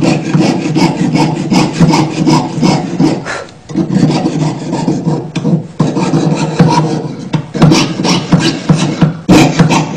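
A jeweler's saw blade rasps back and forth through metal while making body piercing jewelry, in steady, loud strokes, the scraping continuing almost without pause.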